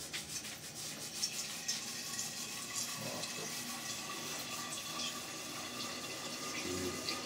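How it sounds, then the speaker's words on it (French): Water poured into a sprouting jar, a quiet, continuous splashing and gurgling fill with faint rubbing and handling noises, heard alone without talk. "On va rajouter de l'eau, beaucoup d'eau."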